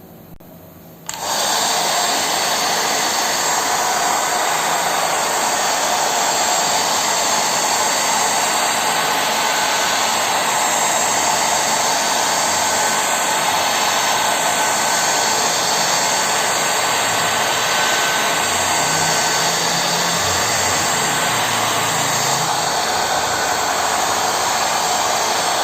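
A hair dryer switches on after a second and blows continuously at a steady, loud whoosh for the rest of the stretch, with no talking over it.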